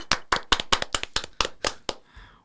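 Hands clap about nine times in a brisk, slightly uneven rhythm, close and loud, then stop, leaving a short quiet tail.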